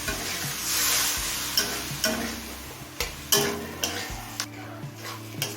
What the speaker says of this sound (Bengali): জল দিয়ে আরও একবার সব কিছু মিশিয়ে নিয়েছি